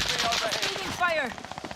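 Rapid bursts of gunfire from a console shooter game crackle close and loud in quick succession, mixed with game effects and a sweeping whine, no talk.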